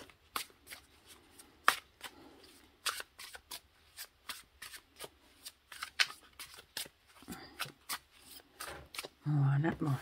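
Oracle cards being shuffled by hand, a series of close, crisp riffling and sliding bursts repeating irregularly across the clip, with someone speaking between them.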